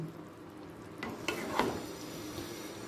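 Paneer, onion and capsicum, already fried, stirred into a bubbling gravy in a pan, giving a steady soft sizzle with a few scraping spoon strokes and light clinks near the middle, with no talking.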